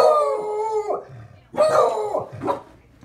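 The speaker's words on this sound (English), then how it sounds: "The dogs can tell someone's here." Several excited household dogs howl in long wavering notes, then break into barks and yips, close and loud, in two bursts.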